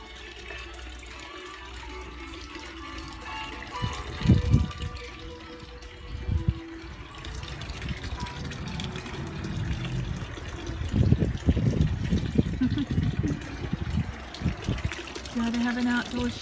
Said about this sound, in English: An outdoor shower.